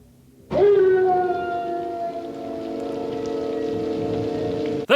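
A man's sustained, wavering howl from The Twilight Zone episode The Howling Man, loud and close, holding one long drawn-out cry with a steady tone for several seconds.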